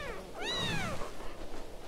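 Kittens meowing in the video game Shelter 2, one clear drawn-out mewl rising and falling near the start, followed by softer rustling game ambience.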